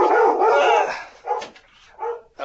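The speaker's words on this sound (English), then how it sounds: "That was the dog." A dog barks close by indoors, first one drawn-out, howling bark and then two shorter yelps with brief gaps between them.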